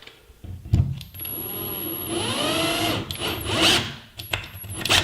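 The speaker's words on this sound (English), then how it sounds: "We're going to use our cordless drill just to put the screw in a few turns." A cordless drill whirs up in a few short bursts, its motor pitch rising and falling as it drives a screw a few turns for hanging a mirror or picture, with brief pauses between runs.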